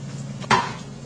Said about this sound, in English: I'm going to go ahead and get out the pan and prepare it